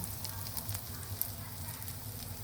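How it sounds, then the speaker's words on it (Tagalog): Fish cake frying inside an air fryer gives a steady, soft sizzle with a low fan hum underneath, continuous and even throughout with no voices. "Fry natin siya sa air fryer. Ayan na, pina-fry na natin siya."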